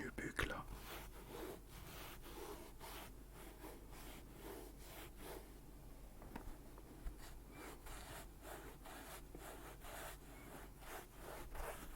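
Close, quiet scratching of a fingernail drawn back and forth across the nubuck of an Air Jordan 1 sneaker, a steady soft rasp with a few light taps, whispered talk in the background.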